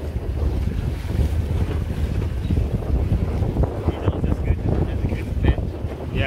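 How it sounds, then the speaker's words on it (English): A commercial squid fishing boat circles on open water, heard from another vessel as low engine rumble mixed with heavy wind buffeting and splashing waves, steady throughout. "So that boat going to the circle to make a loop, a circle."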